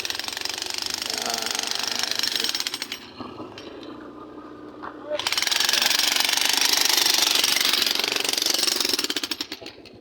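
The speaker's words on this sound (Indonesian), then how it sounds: "di depan sedang dilakukan pengeboran. Iya, pengeboran guys." A loud, rapid jackhammer pounds continuously drilling a village road, pauses briefly mid-way under a lower rumble, then resumes hammering before fading at the end.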